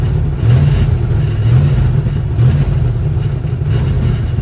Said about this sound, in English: the engine sounds pretty healthy to me